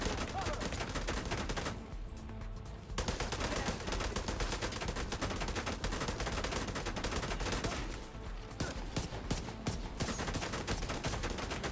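Continuous heavy gunfire from The Division 2 as a player lands headshots on a big boss enemy, dense rapid shots with brief pauses, under loud game action.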